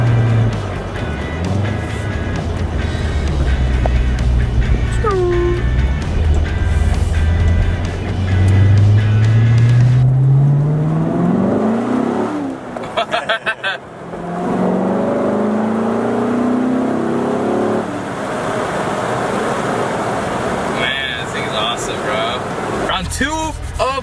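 A Chevrolet C7 Corvette engine drones and rises in pitch as the car accelerates, a steady in-cabin rumble with a brief lull and shift, while a person talks over it.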